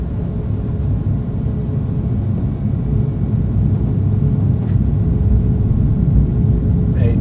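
An airliner's engines build toward takeoff thrust, a deep, steady rumble heard from inside the cockpit that grows slightly stronger over several seconds, with faint pilot voices beneath it.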